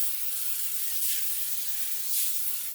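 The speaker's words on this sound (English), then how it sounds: "I'm going to go ahead and spray it down with some cooking spray." A steady aerosol hiss of cooking spray, close up, with two brief louder bursts, no voices.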